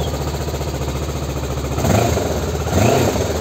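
A cold Kawasaki Versys 650 motorcycle with a Rhodes Italia exhaust idles with a steady, close mechanical thrum, and the engine swells briefly twice in light revs. No one speaks.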